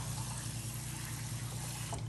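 Water trickles and sloshes steadily in a container while cow skin is rinsed, a quiet, close, continuous liquid sound with a small splash near the end.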